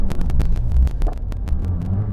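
A GWM Cannon Alpha PHEV stuck off-road at full reverse throttle, giving a loud, close, uneven rumble broken by rapid, sharp clattering bursts from spinning tires and drivetrain.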